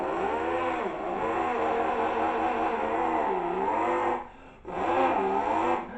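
A human voice imitates a V8 demolition derby car firing up and revving, a throaty rising and falling engine drone held for several seconds with a brief break before resuming, close and loud.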